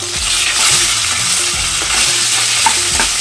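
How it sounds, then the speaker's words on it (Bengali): Fish frying in oil in a home kitchen, a loud close crackling sizzle that keeps going steadily throughout. "মাছ ভাজা হচ্ছে"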